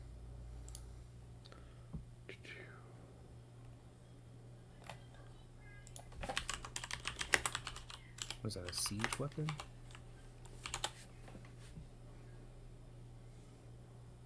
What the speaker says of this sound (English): I'm sorry if you can hear my clicking.